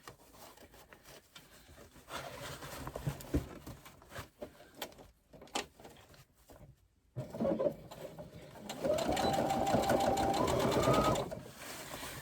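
Domestic sewing machine stitching the long base seam of a fabric backpack, a steady close whirring run that builds toward the end after scattered softer handling noises and pauses.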